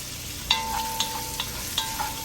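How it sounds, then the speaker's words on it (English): Sausage browning in hot oil in a pan for a one-pot pastalaya, a steady close sizzle with a few sharp clinks of a utensil against the pan and a faint ringing tone underneath. "Got that oil hot, it's pan hot. We're just browning that sausage."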